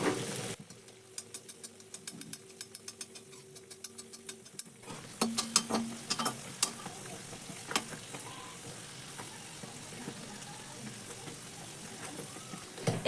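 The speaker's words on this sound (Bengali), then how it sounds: "ঝটপট আবারও একটা তোমাদেরকে ভেজে দেখিয়ে দিচ্ছি।" A snack fries in oil with a faint, crackling sizzle, punctuated by light taps and clinks of a utensil; a low hum runs under the first few seconds.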